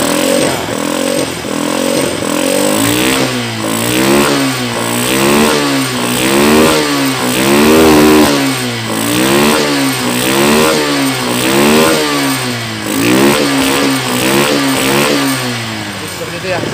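A motorcycle engine fitted with a vacuum carburetor, its piston slide modified, revs repeatedly as the throttle is blipped in a regular rhythm, loud and close, with someone talking over it.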